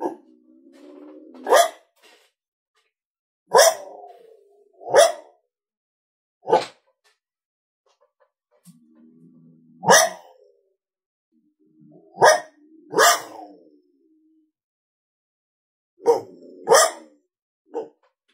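Boss Coyote Mayhem Pak electronic call playing coyote barks and growls: a series of sharp, separate barks with short low growls between them, spaced irregularly and heard alone against silence.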